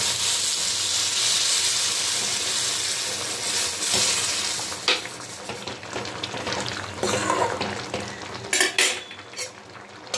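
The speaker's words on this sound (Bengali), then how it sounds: "এবার আমি সর্ষের তেলে জিরে আর শুকনো লঙ্কাটা ফোড়ন দেব" Hot mustard oil with cumin seeds and dried red chili is poured into a pot of chana and matar dal, giving a broadband sizzle that fades over several seconds, with spoon and pot clinks toward the end.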